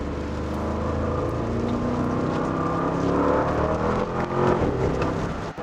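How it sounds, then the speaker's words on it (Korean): A Bentley Bentayga V8 accelerates in sport mode on a winding road, its engine a loud, close, steady drone that builds gradually with slight dips near the end. "컨티넨탈 GT에서 느꼈던 그 화끈한 엔진 사운드가 여기서도 그대로 느껴진다"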